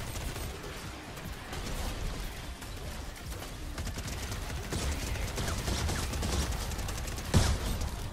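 The Nocturno weapon fires in a video game during a boss fight, giving bursts of rapid, crackling gunfire like a firework barrage, with a steady busy clatter and one sharper bang near the end.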